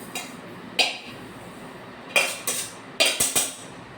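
Mixed seeds, including fine chia seeds, are tipped into a mixer jar in several short, close pours, each a sharp rattling clatter that fades quickly, with quiet gaps between them.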